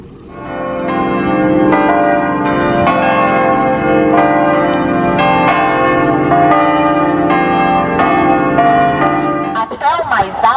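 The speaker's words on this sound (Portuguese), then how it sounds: "E esse aqui é o sino." The 13 bells of the basilica carillon in Aparecida, Brazil, ring continuously in a rich, layered peal, loud and resonant, with overlapping strikes and long ringing tones before fading near the end.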